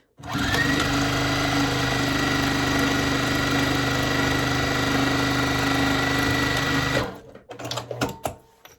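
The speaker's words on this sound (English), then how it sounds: "And then you're going to sew both sides." A sewing machine stitches the sides of a rainbow patchwork fabric project bag, running in one loud, steady whirring burst of about seven seconds, then stopping, followed by a few soft handling clicks.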